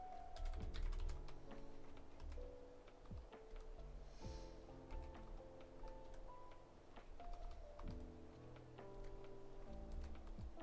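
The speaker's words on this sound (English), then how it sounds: "I'm sorry about your keyboard ASMR." Brown-switch mechanical keyboard being typed on in steady, close clicking bursts, with background music or tones running underneath throughout.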